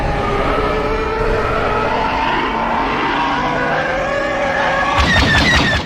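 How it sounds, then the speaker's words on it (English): A Star Wars TIE bomber's ion engines give a sustained eerie, wavering howl at steady high volume, then a sharp crackling burst of harsh noise near the end before it cuts off. "the bomber's ion engines made an eerie howl passing overhead"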